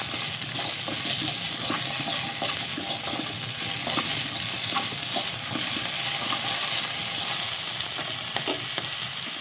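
Capsicum frying in ghee in a home kitchen pan, a steady close sizzle with stirring scrapes and light metallic clinks from the utensil throughout.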